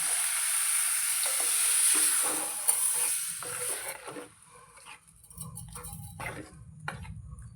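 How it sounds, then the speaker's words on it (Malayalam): Water goes into a hot pan of jackfruit curry with roasted coconut, setting off a loud, close burst of sizzling that fades after a few seconds into quieter bubbling with scattered soft clicks. "എന്നിട്ട് കുറച്ച് വെള്ളം ഒഴിച്ച് കൊടുക്കാം."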